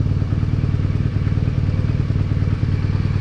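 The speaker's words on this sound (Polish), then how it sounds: "pracuje już dużo lepiej, ale jeszcze nie idealnie ten motocykl" A BMW R 1200 GS motorcycle engine idles steadily with a low, even throb and faint mechanical clatter, close by and with no voices.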